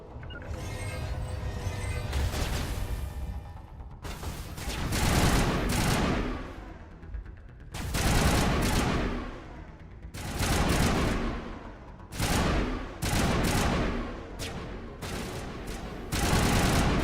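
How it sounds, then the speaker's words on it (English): Video game gunfire in rapid bursts of automatic shots, loud and repeated in clusters with brief gaps between volleys, no talking. "What are you shooting at?"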